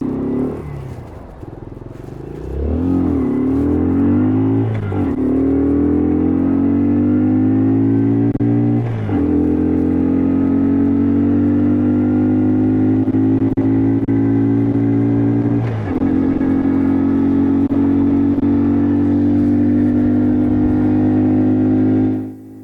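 A Yamasaki YM50 RE 2022-edition small motorcycle engine buzzes steadily and close on a test ride, rising in pitch as it accelerates, with brief dips around gear changes and sustained droning between them.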